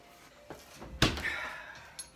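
A kitchen refrigerator door swung open and shut, with a soft thud, a louder clunk and a short rustle of handling, then a final knock.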